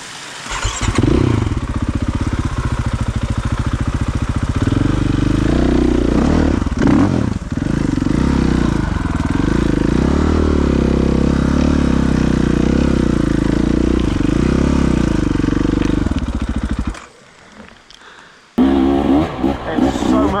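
A KTM 300 EXC TBI two-stroke dirt bike rides off-road, its engine loud and close with a rasping drone that rises and falls as the throttle changes, then briefly cuts out near the end before picking up again.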